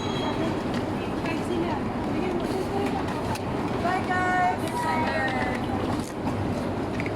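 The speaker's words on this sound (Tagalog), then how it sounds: "Express train to Seoul Station kung saan kami mag-stay." Express train to Seoul Station in South Korea, a steady loud rumble of rail travel with faint wheel squeal, heard from on board under continuous talking.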